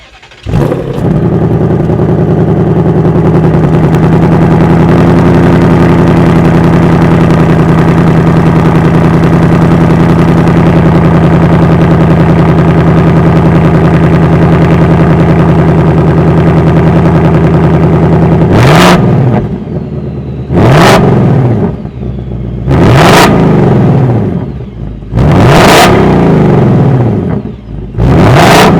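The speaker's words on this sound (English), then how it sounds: "that was the sound of the high output 5-liter V8 sold by Ford for the 2025 Mustang" A big high-output 5-liter V8 in a 2025 Ford Mustang Dark Horse fires up and settles into a deep, rumbling idle, then several sharp, loud revs blip up and drop back.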